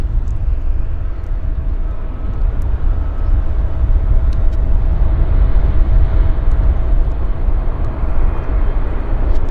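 A landing airliner rolls long down the runway at Vancouver YVR airport, a loud, steady low roar of engine and rumble that continues unbroken throughout, with no talk over it.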